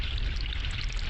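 Water pours onto a tree in The Longest Journey video game, a brief continuous splashing pour with a soft watery trickle, steady and fairly close, without speech.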